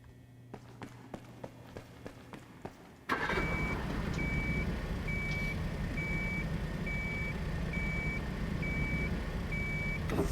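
Steady reversing beeps from a forklift in Crime Scene Cleaner, repeating at an even pace under a loud, constant engine drone that starts abruptly after a few soft ticking knocks.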